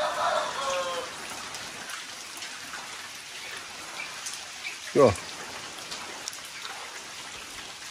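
Rain falling on a farm plot, a steady soft patter of drops across the whole stretch, with a man's short remark near the middle.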